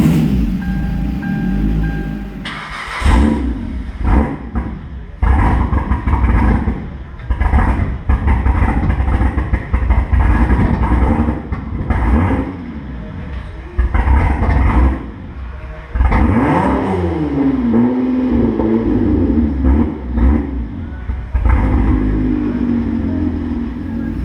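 A budget rally car engine, just fitted with a new crank position sensor, catches after a couple of seconds of quiet, then barks through a series of loud, close, uneven revs and blips with no talking.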